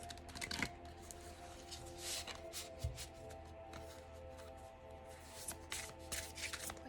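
A deck of tarot cards is shuffled by hand, giving soft, quiet riffling and flicking bursts in irregular clusters, close by and with no talk.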